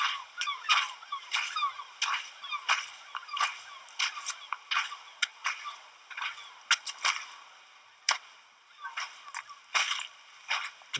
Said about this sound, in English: seagulls are coming slowly.